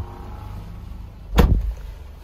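A car door on a 2011 Subaru Forester 2.5 Premium closes with a single solid thump. A quiet interior hum comes before and after it.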